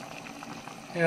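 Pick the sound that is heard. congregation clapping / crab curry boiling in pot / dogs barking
crab curry boiling in pot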